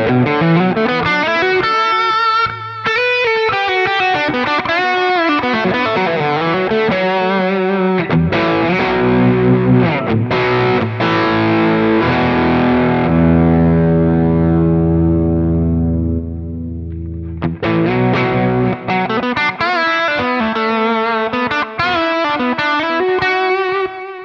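An electric guitar plays a distorted lead line through a PV amp model on a Quad Cortex, with sustained bends and held notes ringing with echo and reverb, loud and alone.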